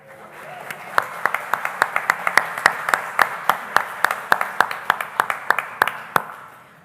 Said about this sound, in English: our musicians don't always get applause just at the mention of their name